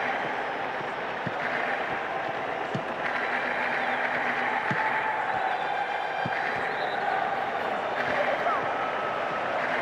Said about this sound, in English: The section of the crowd is urging them to shoot, and not before time.